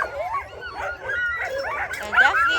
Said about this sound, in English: We are at a dog place.